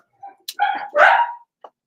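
Several pet dogs indoors give short, loud barks and yips in quick bursts, close to the microphone.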